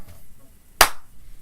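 A single sharp clap made by a voice-and-hands imitation of one lone person clapping, one crisp burst in near silence.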